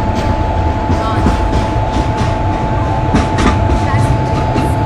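Train in the game Indian Train Simulator rumbles past with a steady clatter of wheels on rails, loud and continuous, with a sharp high tone sustained throughout.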